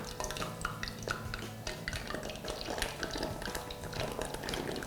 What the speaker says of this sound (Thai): เราก็จะนำหมูลงทอดนะคะ